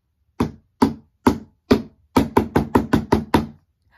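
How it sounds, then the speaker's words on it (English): Ten sharp knocks of a wooden spoon on a hollow homemade box drum: four evenly spaced hits, then six faster ones in a quick run, loud and close. "What sound do you think the box is going to make when I use this wooden spoon to hit it?"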